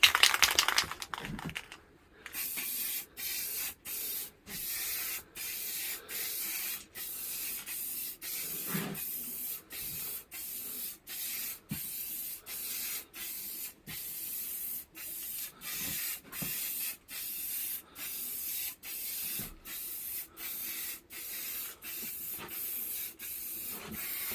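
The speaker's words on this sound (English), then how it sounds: "that just allows us to put the lacquer on, and the lacquer will take and not run" Lacquer sprayed onto a refurbished diamond-cut alloy wheel in a rapid train of short hissing bursts separated by brief gaps, steady and close, with no talking.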